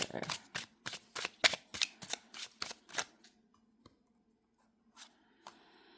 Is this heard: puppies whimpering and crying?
no